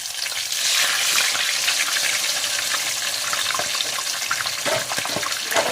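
Pork belly, chilled and patted dry but still slightly damp, crackles and spits loudly in hot oil, a steady close sizzle with scattered pops throughout.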